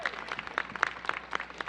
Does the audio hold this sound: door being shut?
no